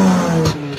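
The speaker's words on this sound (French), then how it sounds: "Un pot d'échappement réalisé sur mesure, complètement illégal." A light car with a 2-litre engine and a custom-built, illegal exhaust revs up loudly and close, holding a rough mid-pitched roar before easing off near the end.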